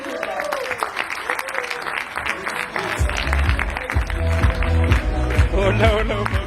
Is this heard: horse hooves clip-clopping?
no